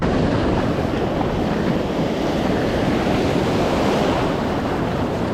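Steady roar of ocean waves breaking at a surf beach, a continuous loud wash of surf with wind buffeting the microphone and no talking.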